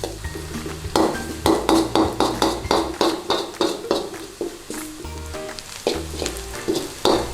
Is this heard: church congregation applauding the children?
no